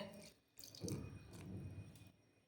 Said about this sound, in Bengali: দেখো জল দিলাম